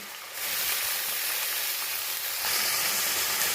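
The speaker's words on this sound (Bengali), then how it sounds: "সেই পেঁয়াজটা আমি প্রথমে তেলের মধ্যে দিয়ে দিচ্ছি।" Chopped onions drop into hot mustard oil and frying starts at once, a loud steady sizzle that jumps up shortly after the start and swells again near the end, with no talking.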